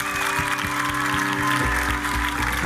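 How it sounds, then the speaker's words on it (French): Studio audience applauding on a French television singing competition, a sustained dense wash of clapping heard over a band playing music, with no talk. "Applaudissements pour Marie, s'il vous plaît"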